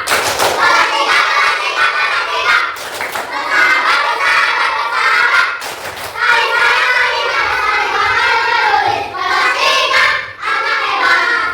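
A group of third-grade children claps in quick rhythmic class-clap bursts, pausing between patterns, with chanting voices mixed in, lively and close.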